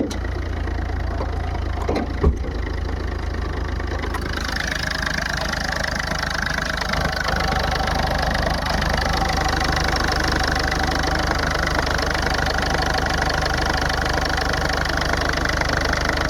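A 2011 Ford Figo EXI diesel engine idles steadily and loud, a continuous low rumble with a slight knock, close and alone, with a brief clatter near the start.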